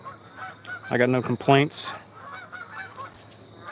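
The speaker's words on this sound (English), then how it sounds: "The geese are flying overhead." Geese flying overhead honk loudly in a short burst of harsh nasal calls over an outdoor pond, with someone talking calmly before and around them.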